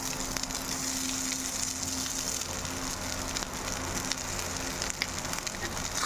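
Rice being mixed into a garlic tempering in a pan, giving a steady, moderately quiet sizzling hiss with faint scraping of the spoon throughout and no break in the sound.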